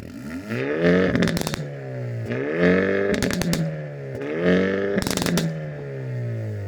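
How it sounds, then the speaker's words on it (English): A 2024 Hyundai Elantra N dual exhaust revving hard three times, each rising growl peaking into a loud crackling roar before dropping back to a rumbling idle. "you have your dual exhaust, baby. Let's take a listen."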